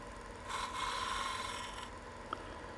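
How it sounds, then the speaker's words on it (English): A detail gouge cuts a rustic wooden Christmas ornament spinning on a lathe, giving a steady raspy scraping hiss that rises for about a second and fades over the motor's hum. "And we'll grab a detail gouge."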